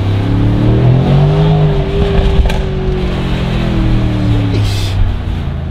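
A car engine roars loudly and steadily up close, its pitch rising and falling slightly as it revs, with a brief sharper burst near the end.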